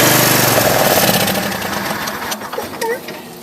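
A Craftsman lawn tractor engine with a fuel problem fires on ether, chugging loudly in a rapid rhythm before sputtering and dying away, followed by quieter talking.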